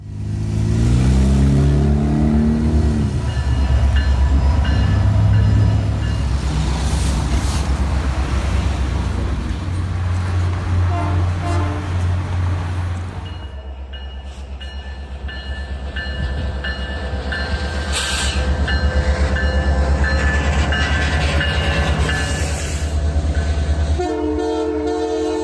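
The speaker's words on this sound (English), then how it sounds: "Some dogs are scared of trains, but Dora absolutely loves" A train passes close by with a continuous heavy rumble and rhythmic clatter of wheels on track. A horn blares partway through, and the roar shifts in tone as the cars roll past.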